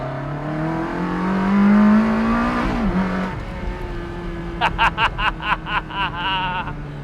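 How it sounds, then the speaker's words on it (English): A Ferrari 360 Spider's engine revs up in one rising, throaty sweep, then drops back and settles, followed by a short burst of nearby laughter. "I'm gonna rev it one more time for you"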